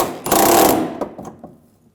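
A power tool bursts on to tighten a bolt on the rear suspension of a 2007–2013 BMW 328i, a loud close half-second rattling whir followed by a few short clicks and taps.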